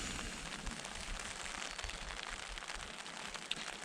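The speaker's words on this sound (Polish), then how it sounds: "No i tuż przed snem rozpadało się. Może nie jakoś bardzo mocno, ale jednak pada." Light rain falls on a tent at a solo campsite at night, a soft, continuous patter with occasional sharper drops on the fabric, close by and quiet.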